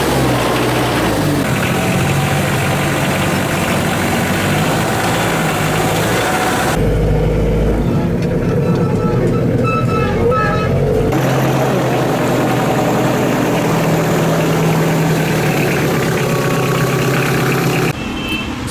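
A donated Kioti tractor engine idling with a steady low rumble, loud and continuous throughout, with abrupt changes in tone partway through.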